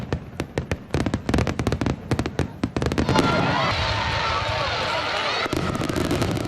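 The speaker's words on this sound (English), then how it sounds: "wait for those sizzles, pops, and booms" Fourth of July fireworks at Genesee Country Village & Museum go off in a rapid run of sharp pops and booms, then turn into a dense, continuous crackling and sizzling barrage, loud and fairly close.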